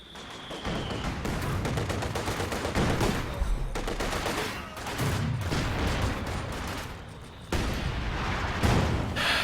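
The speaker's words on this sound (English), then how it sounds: "T-34-85 is taking a few rockets" Rockets and heavy gunfire strike a T-34-85 tank in a World War II strategy game, a dense, continuous barrage of bursts and booms with a few louder impacts, close and loud throughout.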